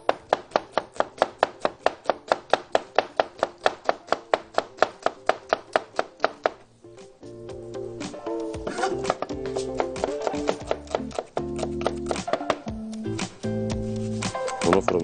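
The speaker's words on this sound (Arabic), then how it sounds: "هنا البصل بقى نبدا نفرمه فرم ناعم" A knife finely chopping onion on a board, fast crisp rhythmic strokes for several seconds, then continued chopping mixed under background talk and music-like tones.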